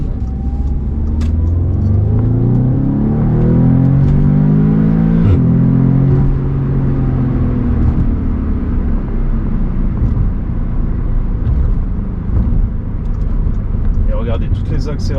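An Audi S3 8V accelerates hard, heard from inside the car. The engine note climbs steadily in pitch and stays loud and continuous for the whole stretch.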